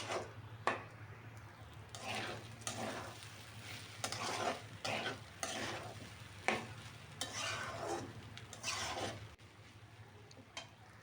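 Rice being stirred and fried in oil in a pot over low heat for beef biryani gives a soft, steady sizzle. Repeated scraping strokes of the spoon come through in close, quiet bursts.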